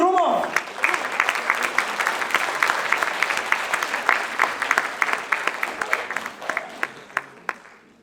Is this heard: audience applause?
yes